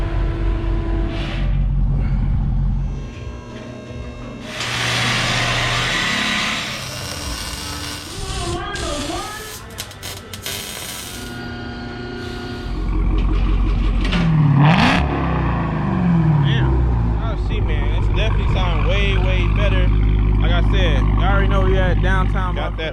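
Dodge Hellcat Redeye with a mid-muffler delete rumbles and revs loudly, the exhaust note rising and falling as the car passes, with hiss and whir in between and someone talking over parts of it.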